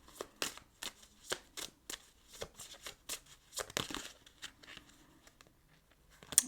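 Tarot cards are shuffled close by in quick bursts of riffling and slapping, each burst short and crisp, repeating at a fairly even pace before trailing off into a few lighter taps.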